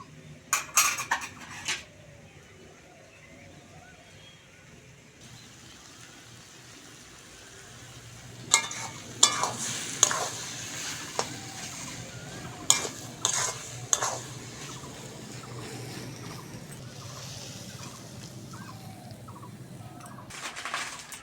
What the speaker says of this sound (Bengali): চচ্চড়িটা ভালো করে নেড়ে চেড়ে শুকনো করে নেব